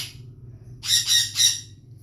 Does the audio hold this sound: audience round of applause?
no